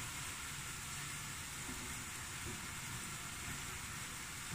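Onions and carrots dry fry in a pan for a cottage pie, making a steady, quiet sizzle with a broad hiss that holds evenly and has no talk over it.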